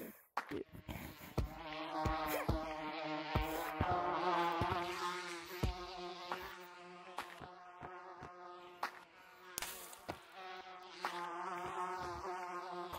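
A steady, dense buzzing of bees in Gorilla Tag fills the whole stretch, swelling and fading slightly, with sharp clicks and short bursts breaking through now and then.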